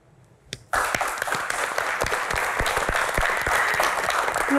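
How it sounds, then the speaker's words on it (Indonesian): An audience in a hall breaks into loud, sustained applause after a brief quiet moment, dense clapping that stays steady to the end. "Tepuk tangan sekali lagi"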